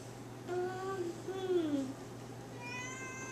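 A cat meows indoors, two drawn-out, rising and falling meows close by at moderate volume over a quiet room hum, followed by a higher thin call near the end.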